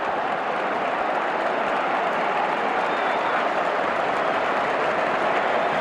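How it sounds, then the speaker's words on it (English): A football crowd at Anfield, during a 1993 Premier League match between Liverpool and Tottenham, applauds in a steady, dense wash of clapping that holds evenly from start to finish without a break. "Plenty of applause ringing around Anfield."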